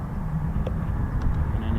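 Distant military aircraft engine roar at an RAF airfield, a steady low rumble throughout with a voice talking over it.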